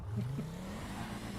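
Two-door sports car passing close by, the engine note rising and then sliding down as it goes past, with a steady road noise bed.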